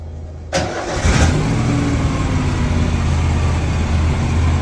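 The engine of an abused 2004 Argo Avenger 700 8x8 amphibious vehicle cranks and catches, then settles into a loud, steady close-up running drone.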